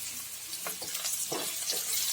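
Onion frying with a pinch of coarse salt, a soft steady sizzle with a few brief stirring scrapes, fairly quiet and close, no talking.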